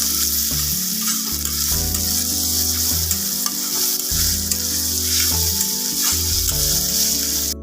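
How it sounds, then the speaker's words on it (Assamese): Tomatoes fry in a pan with a loud, continuous sizzle and crackle, while a steady tune plays in the background. "বিলাহীখিনি মই ভালকৈ ভাজি ল'ম।"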